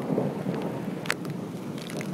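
Steady rain falling outdoors beside a car, a continuous broadband hiss with scattered drop impacts, fairly close and alone without voices.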